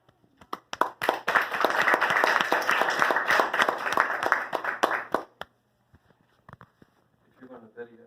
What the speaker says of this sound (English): If you're going to video this, then you can't really properly clap. I'm hitting my leg loudly.